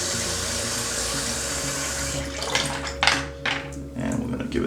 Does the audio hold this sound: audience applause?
no